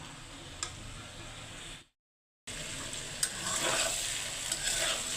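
New potatoes frying in a home kitchen pan give a steady close sizzle with light stirring clicks, broken by a brief silent gap before the frying noise returns slightly louder.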